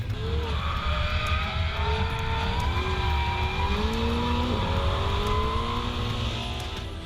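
A Ferrari 488 GTB engine roars steadily on the Fiorano racetrack, heard from inside, with rising and falling revs through gear changes and a faint tyre squeal.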